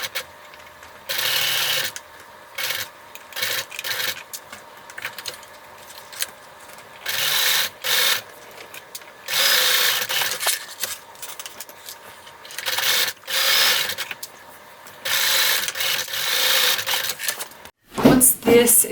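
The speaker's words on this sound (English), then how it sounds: "we're going to sew each side with a 1/2 inch seam allowance and backstitch when you start and when you stop" Sewing machine stitching the side seams of a clear vinyl zipper pouch with a 1/2 inch seam allowance, running in steady bursts with short pauses and backstitching, close and fairly loud, alone without talk.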